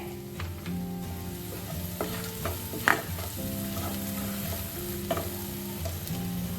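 A spice paste with turmeric roasts in a pan for a fresh pigeon pea curry, giving a steady sizzle broken by stirring scrapes and a few sharp clinks, with tonal background music underneath.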